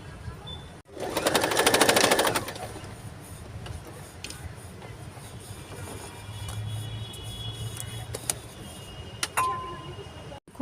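Sewing machine stitching a newborn baby cap: a loud burst of fast stitching near the start, then quieter handling and faint mechanical ticks with low hum.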